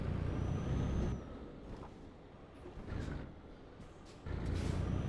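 Bus in Euro Truck Simulator 2 braking hard on a Swedish road near a roundabout, with loud air-brake hisses and low engine rumble at the start and again at the end, a quieter stretch between.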